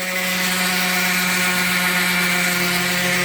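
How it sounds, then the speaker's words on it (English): A steady, loud mechanical whir of a power sander running continuously on a wooden boat keelson, with a droning hum and no pauses. "we're sanding the keelson"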